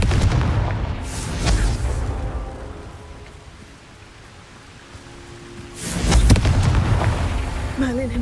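A loud Confringo blasting-spell explosion in the Hogwarts Legacy game bursts and rumbles, fades, then a second heavy blast erupts near the end, with a spoken line and game sounds around it.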